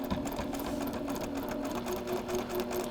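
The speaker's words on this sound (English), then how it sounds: "we are gonna sew along the line between A5 and A6" Domestic sewing machine stitching a straight quilt block seam along a marked line, a steady close, continuous whirring drone with rapid needle rhythm throughout, alone without talk.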